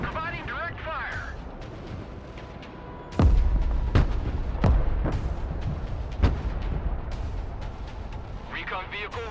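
Rocket artillery in the video game Broken Arrow fires a series of sharp, loud launches in a quick irregular volley, with rumbling echoes trailing after, while radio-style unit voices talk at the start and end.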